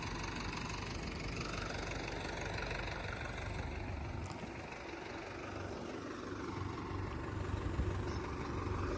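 A steady, rumbling engine idles continuously with a low, slightly knocking chug, close by and unchanging throughout.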